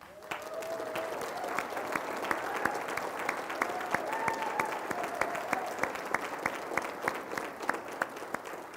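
Applause from a seated audience for an honoree standing at the 2023 State of the County event, a steady wash of many hands with crisp nearby claps popping out regularly, a faint voice briefly heard underneath.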